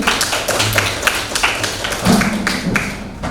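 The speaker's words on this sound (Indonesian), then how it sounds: "Tepuk tangan untuk Diani" A classroom of students applauds a classmate named Diani, giving a short burst of dense, scattered claps close by, with a voice briefly audible underneath.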